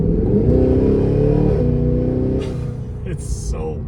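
Supercharged V8 of a Cadillac Escalade V SUV revving loudly, a deep rising engine note with stepped harmonics that holds strong, then dips and shifts with a few brief higher noises near the end.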